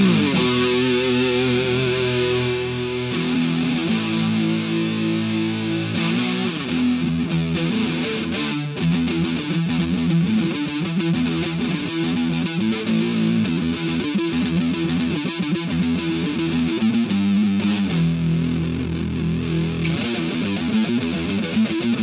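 Heavily distorted electric guitar through a full pedalboard with a shimmering chorus wash, including a Big Muff, thick sustained chords and riffs playing continuously and loud for the whole stretch, no voices.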